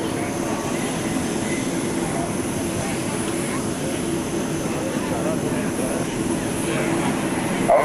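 C-17 military transport aircraft making a low pass over a runway at an air show, a steady loud jet roar held throughout with a commentator talking over it.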